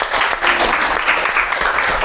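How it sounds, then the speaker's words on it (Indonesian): A classroom of students breaks into applause, a loud, busy spatter of clapping that surges and dips slightly over two seconds, with no voices. "Ya, tepuk tangan."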